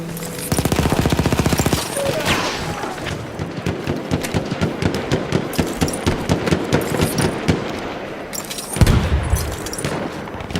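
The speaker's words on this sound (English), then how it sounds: "machine gun." Sustained machine gun fire from Battlefield 1, a dense rapid burst at the start followed by irregular volleys of shots and booms in a loud, chaotic battlefield mix.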